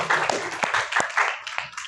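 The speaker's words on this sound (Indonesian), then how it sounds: "Tepuk tangan dulu buat kalian semua." Students clap for themselves in a classroom, a short burst of many loose, uneven hand claps at moderate volume with no talking over it.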